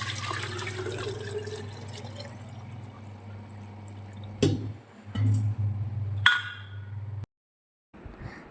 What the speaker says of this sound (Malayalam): തിളപ്പിച്ച വെള്ളം കുറച്ച് തീർന്നിരിക്കുന്ന കണ്ടുകൊണ്ട് അത് കുറച്ച് ഊറ്റി വെക്കുന്നത് കേട്ടോ